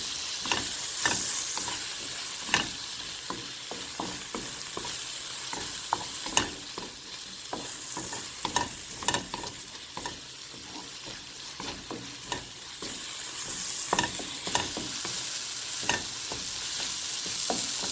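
Daal sizzles in a pan while a spoon stirs it, giving frequent sharp scrapes and clinks over a soft, steady frying hiss.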